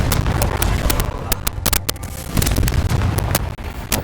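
Confringo fire-blast spells are cast repeatedly during combat in Hogwarts Legacy, producing a rapid string of sharp, loud cracks and bursts over a dense battle din.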